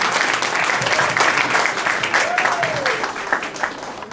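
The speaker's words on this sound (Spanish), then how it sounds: "Con un fuertísimo aplauso vamos a recibir a Juan" An audience gives loud, sustained applause welcoming a speaker to a talk, dense steady clapping throughout with a brief whistle rising above it.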